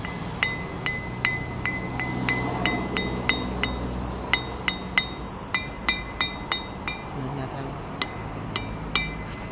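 Repeated bright metallic clinks of a hammer on a ductile steel anvil, each strike ringing clearly, in an irregular steady rhythm with a low rumble of background noise.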